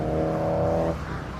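Race cars idle and rev steadily at a circuit before heading out on track for a Fiesta Junior Championship race, a sustained engine drone that drops off near the end.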